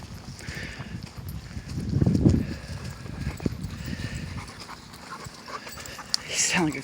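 Dogs pant in rapid, breathy bursts close by, with some scuffling movement and brief human vocal sounds mixed in, the panting loudest around the middle.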